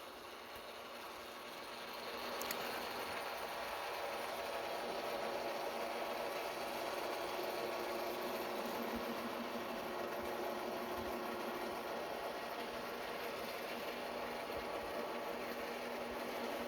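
An antenna rotor motor turns the antenna toward south, a steady low mechanical hum and whir that starts softly, swells after about two seconds and then runs evenly and continuously with no voices.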